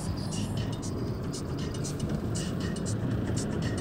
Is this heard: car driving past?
yes